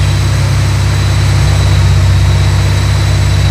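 Supercharged Ford Mustang GT 5.0 V8 from 2019 with a manual gearbox, held steady at 2000 RPM: a loud, even, low engine drone with a constant hum, close by and continuous with no talk.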